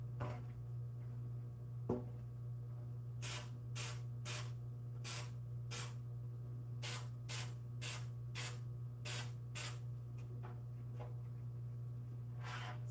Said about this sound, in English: See how I sprayed it?